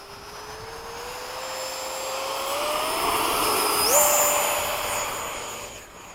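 F-5 jet aircraft engine, a continuous whine and roar that swells gradually, with its pitch stepping up sharply near the end before easing off.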